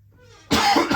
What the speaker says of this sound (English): I cannot kick this cough